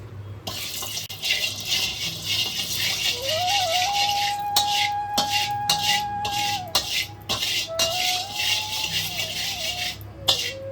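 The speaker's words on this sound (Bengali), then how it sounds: "চিনিটা আমাদের ক্যারামেলাইজড হয়ে গেছে" Sugar caramelizes in hot oil left from frying eggs for a Bengali egg curry. A steady close sizzle runs under repeated metal spoon scrapes and clinks against the pan, with a thin whistling tone drifting over it.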